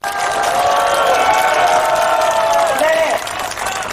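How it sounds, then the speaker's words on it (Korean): Crowd applause and some cheering at an outdoor press conference rally of parents, farmers and civic groups protesting the Gyeonggi education office, loud clapping under a tonal public-address hum, then tapering off near the end. "김동연 대표님한테 큰 박수 한번 부탁드리겠습니다."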